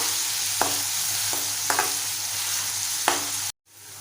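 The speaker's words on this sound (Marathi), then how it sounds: "कांदा आपल्याला थोडासा नरम होऊ द्यायचा आहे एक दोन तीन मिनटं आपण परतून घेऊया" Onions softening in a hot pan for spicy prawn rice, a continuous close sizzle with three sharp spatula taps against the pan spaced through it, ending in a sudden cut.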